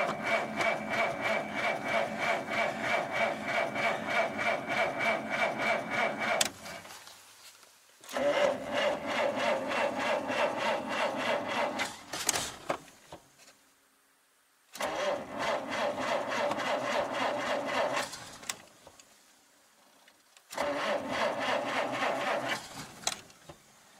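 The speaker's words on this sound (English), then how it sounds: "I'm going to start the car up. If it'll start, then it'll. Oh dear, let's try some choke." A Mercedes W124 4Matic engine cranks with choke applied: long runs of rhythmic starter whirring broken by silent pauses, repeated several times before the engine stumbles toward catching, close and fairly loud.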